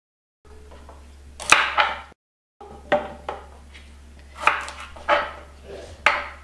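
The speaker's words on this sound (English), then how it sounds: "I like to trim the very ends off of the rhubarb" A kitchen knife trims the ends off rhubarb stalks, giving about half a dozen sharp, close chops on a cutting board in uneven pairs and singles, with brief pauses between cuts.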